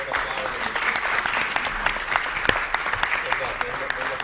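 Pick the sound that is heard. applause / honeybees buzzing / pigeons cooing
applause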